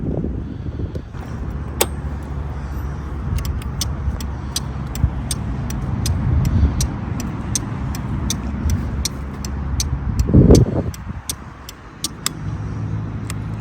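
A Suzuki Choinori scooter with a swapped-in 2-stroke engine idles steadily nearby, a low continuous engine drone punctuated by regular sharp clicks and a brief louder rumble partway through.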